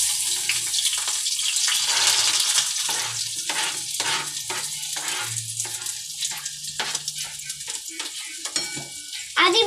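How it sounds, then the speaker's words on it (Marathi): Onion goes into hot oil in a pan for a ghevda amti curry and fries with a loud, steady crackling sizzle, broken by soft stirring scrapes, close up and without talk. "आता आधी कांदा तेल टाकून मग कांदा टाकायचा."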